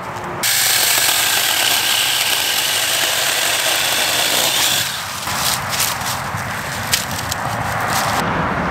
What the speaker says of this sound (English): And I'm gonna cut it up, get some more firewood before it gets completely dark.